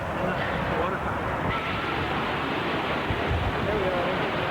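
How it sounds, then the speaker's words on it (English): Water fountain in a park in Brighton, a steady broadband splashing hiss that stays even and fairly close for the whole stretch, with faint wind noise mixed in. "And the water fountain."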